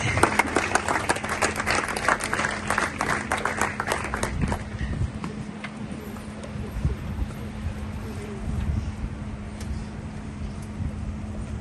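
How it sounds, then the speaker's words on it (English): An audience at a tribute night applauds in a crowded, crackling patter that is thick at first and thins out to a softer murmur and scattered claps. "A round of applause, please."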